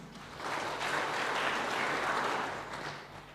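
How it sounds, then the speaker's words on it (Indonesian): A church congregation claps for the youth during a Sunday worship service, steady broadband applause swelling in after a moment, holding for a few seconds, then tapering off, with no voices over it. "Tepuk tangan untuk pemuda."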